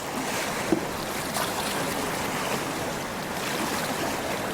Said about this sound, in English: We're going down the river.